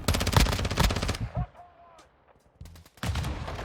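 Rapid automatic gunfire in the shooter game Modern Warfare II, loud close bursts that pause briefly and then resume, with a faint voice in the gap.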